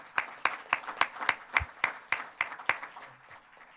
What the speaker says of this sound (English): So let's clap for Jeff Blakesley.